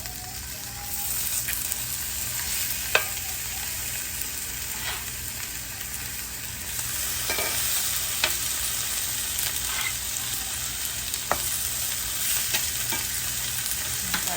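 Food laid skin side down in a hot pan coated with avocado oil gives a steady, close sizzle that holds for the whole stretch, with a few faint clicks and scrapes and no talking.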